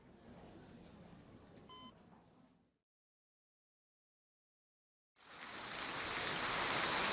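Drizzling rain sound effect in a visual novel game, a soft hiss of falling rain with a brief beep, cutting to silence before returning as a louder, dense, steady wash of rain.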